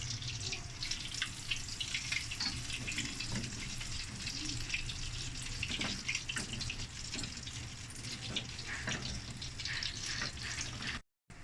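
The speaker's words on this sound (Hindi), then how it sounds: "देखिए कितने अच्छे हमारे रोल जो है वो फ्राई हो रहे हैं, क्रिस्पी से रोल" Chicken kabab rolls fry in oil over a low flame, giving a steady, dense sizzle and crackle that runs without a break for about eleven seconds and then cuts out briefly at the end.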